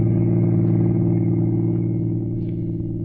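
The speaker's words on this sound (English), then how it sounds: "he was behind the wheel of a car, rolling smoothly along a lonely highway" Steady low car rumble of smooth cruising along a lonely highway in an old radio mystery drama, a constant hum with no talk.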